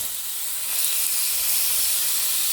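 Oyster mushrooms dry sautéing over medium heat in a pan for soup give a steady, close hiss like steam, even and unbroken, with no talk.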